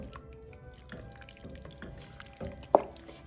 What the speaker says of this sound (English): now we're going to add 2 jars of our granolo passata